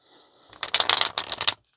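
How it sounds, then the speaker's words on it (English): A quick riffle of playing cards being shuffled, a short burst of rapid flutters and slaps after a faint hiss, close and clear. "I feel like I have to shuffle."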